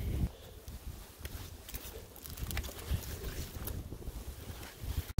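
Cold outdoor wind gusts and buffets a nearby microphone in a steady, rough roar with a few louder bursts, and no voices.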